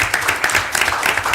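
Applause at a board of directors meeting, a brief burst of scattered clapping from a modest group, close and fairly loud.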